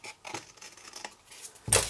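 Scissors cut through card in a few quick snips, close and crisp, ending on one louder, sharper cut with no talk.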